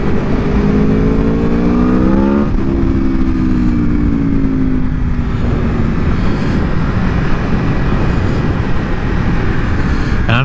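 A 2021 Aprilia Tuono V4 Factory motorcycle ridden in sport mode roars loud and close, its engine note rising through the gears with a shift dip midway, then settling into a sustained high drone with heavy wind rush.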